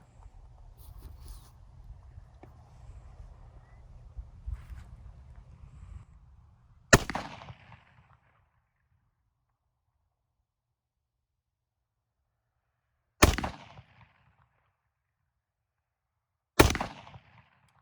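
A rifle fitted with a Daniel Horner 10B trigger fires three sharp, separate shots spaced several seconds apart, following a stretch of low rumbling noise.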